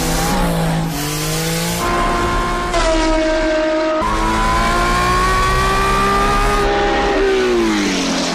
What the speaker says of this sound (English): The most powerful car Porsche has ever produced was this. The 917 30 Spider.